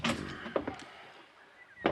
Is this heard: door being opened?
yes